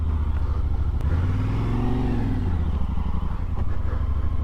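A motorcycle on a round-the-world trip rolls slowly over wooden planks, its engine a steady close rumble with light clattering of the boards beneath the tires throughout.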